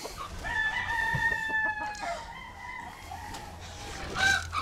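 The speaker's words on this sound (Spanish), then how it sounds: "Ahí están las gallinas apenas." Roosters crow and hens cluck at a rooster breeding farm, with several overlapping long crows at moderate distance over steady farmyard ambience.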